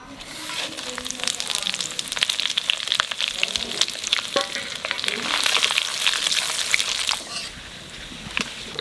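Bay leaf, panch phoron and dry chilli crackle and sizzle in hot oil for a vegetable khichuri, a steady close, loud fry with sharp pops and bursts throughout.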